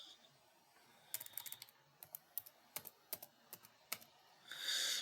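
Typing a password on a computer keyboard, with a run of distinct key clicks in an uneven rhythm, fairly close and alone, ending in a brief burst of rustling.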